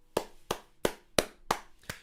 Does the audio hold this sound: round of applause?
yes